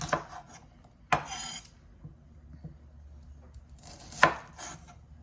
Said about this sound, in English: I like to cut them, you know, down the center like that